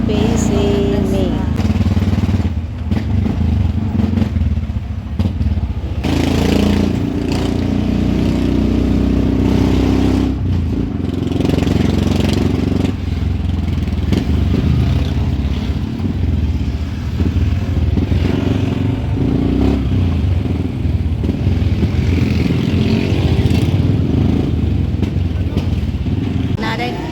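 Motorized tricycle driving along a newly paved concrete road toward the city, a loud continuous engine drone with rattling and wind rumble throughout, and voices talking over it.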